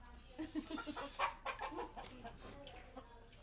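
Chickens cluck in a steady, busy stream, several birds close by with overlapping calls and faint background noise throughout.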